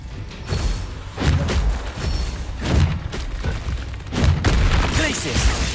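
Ice spell effects crackle and boom in Hogwarts Legacy combat, several bursts landing roughly every second and a half, loud and close over a dense background of game noise and music.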